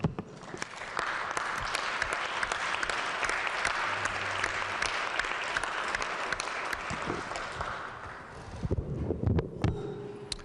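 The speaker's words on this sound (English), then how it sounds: "let's give God a round of applause for the blessings of these jobs and these great announcements" The West Virginia legislative chamber fills with a steady, dense round of applause lasting several seconds, which then breaks up into scattered claps and rustling near the end.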